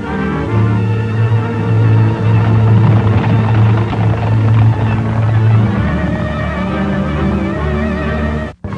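A propeller plane drones steadily overhead for several seconds, a loud continuous engine hum with a throbbing low tone that holds, then swells slightly and cuts off abruptly.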